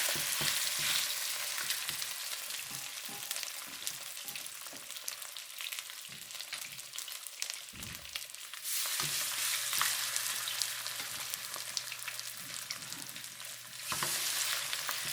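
Chicken thighs sear skin side down in a hot pan, a continuous bright sizzle broken by irregular soft knocks and scrapes as the pieces are shifted.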